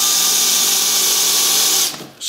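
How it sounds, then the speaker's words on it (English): A power drill driving screws while fitting a twin-legged Pletscher kickstand to a bicycle, a loud, steady high whine held for nearly two seconds before winding down. "And we're going to drill these."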